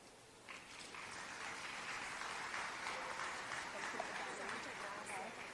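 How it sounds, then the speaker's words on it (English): An audience at a business keynote event bursts into sustained applause, a dense wash of clapping that starts after a brief pause and holds steady at a moderate, slightly distant level. "Another round of applause."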